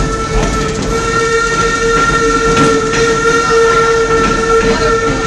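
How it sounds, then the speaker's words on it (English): Historic Torch Lake steam locomotive hauling a passenger train on the Greenfield Village Railroad, a loud steady rumble and rolling clatter of the cars with a sustained whistle tone running close by throughout. "The locomotive pulling our train today is the historic Torch Lake"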